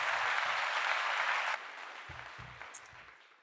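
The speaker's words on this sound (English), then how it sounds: "Round of applause, round of applause." A round of applause from an audience, dense clapping that starts full and loud, then thins out into scattered individual claps as it fades away.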